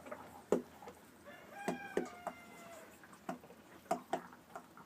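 Sick chickens in a coop making rough, gurgling clucks, rattling and short coughing sounds, scattered irregularly at moderate volume, no talking.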